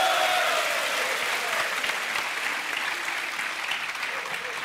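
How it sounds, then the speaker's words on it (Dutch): A studio audience breaks into loud, sustained applause, a dense wash of many clapping hands that starts strong and eases off only slightly over several seconds, with no voices on top. "Mag ik een applaus?"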